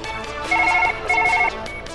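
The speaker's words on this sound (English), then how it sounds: "Got the phone ringing, but I'm drawing a bird," A phone rings in the video game Surgeon Simulator 2013, two short electronic trilling bursts in quick succession, clear and fairly loud over a faint background hum.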